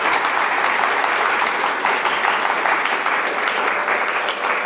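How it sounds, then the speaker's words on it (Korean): Guests at a hotel wedding applaud as the bride and groom bow to them. Dense, loud clapping from a crowd runs steadily throughout, with no break. "박수 부탁드립니다."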